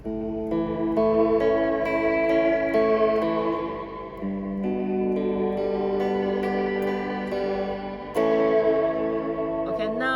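A guitar played through the Fender Reflecting Pool pedal on its Tap Echo 3 delay setting, low-fidelity repeats smearing sustained chords into a continuous, echoing wash with a new strum near the end, loud and alone.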